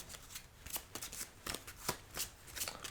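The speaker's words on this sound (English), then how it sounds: "Now, let's go ahead and get a nice shuffle." Playing cards are shuffled close up in a soft casino dealer roleplay, giving a run of crisp riffling bursts and light snaps at an uneven quick rhythm, with no voice over them.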